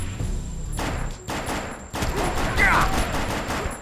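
Rapid gunfire and bursts of automatic shots from combat in the PS3 shooter Defiance, loud and repeated in clusters with brief gaps, game sound effects layered in the mix.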